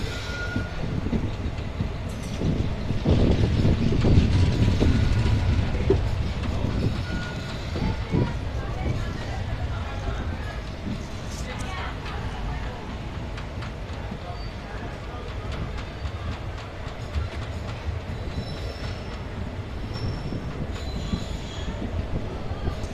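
A passenger train pulls into Kanyakumari railway station in India, with loud rumbling wheels and squealing that fade into a steady rolling hum, along with occasional beeps and nearby voices.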